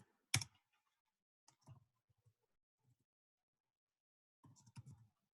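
Computer keyboard typing: a few faint, sparse clicks and short bursts of keystrokes separated by quiet gaps.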